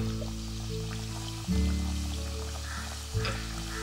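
Vettucake pieces, a Kerala thattukada-style egg cake, frying in hot oil: a steady, dense sizzle with two brief surges as more pieces drop in, under a low tonal hum.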